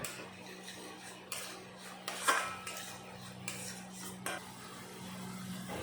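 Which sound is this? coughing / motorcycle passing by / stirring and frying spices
stirring and frying spices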